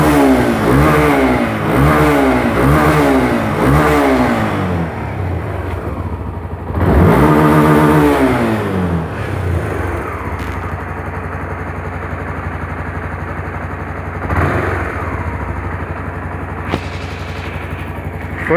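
A homemade motorcycle engine is revved hard and close in repeated rising and falling surges. It then settles into a loud, rough idle, broken by a few more blips of the throttle.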